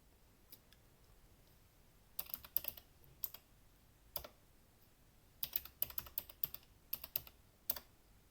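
Password typed on a computer keyboard: scattered clusters of sharp key clicks with pauses between them, close and clear in a quiet room.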